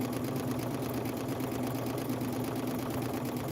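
A sewing machine runs continuously while stitching seams, a steady motorized whir with fast even needle rhythm, close and alone with no talk.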